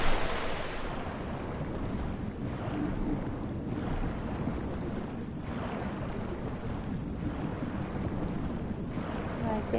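Lara diving into water in Tomb Raider Anniversary, heard as a broad rushing splash of water that opens the scene, followed by a continuous wash of lapping water and ambient surf-like noise with no talk.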